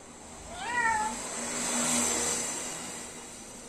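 A cat gives a clear rising meow, then a softer drawn-out call, against a steady background hiss in a home where a talking black-capped lory parrot is kept.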